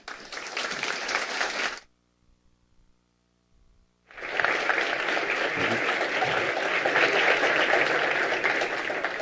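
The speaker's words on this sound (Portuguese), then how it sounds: "vamos recebê-lo com um aplauso de boas-vindas." A theater audience applauds loudly to welcome a guest on stage. A dense clapping burst is followed by a short quiet gap, then sustained, steady applause that continues to the end.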